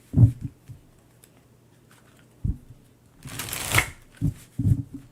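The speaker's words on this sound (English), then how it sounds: "I've never had cards move while I'm shuffling." A Crow Tarot deck is shuffled by hand, one longer riffling burst of cards in the middle, with a few soft taps and thumps of the deck before and after, close and fairly quiet.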